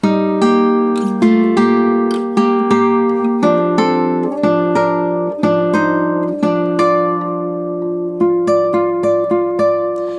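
An acoustic guitar plays a quick scale line with a rolling cross-picked pattern, notes ringing into each other, close and clear with no voices.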